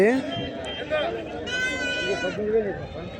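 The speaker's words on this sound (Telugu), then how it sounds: "ఇక్కడ మేకల దగ్గర" Goats bleating at a busy village livestock market, the calls repeated and fairly close, with people talking throughout and crowd noise underneath.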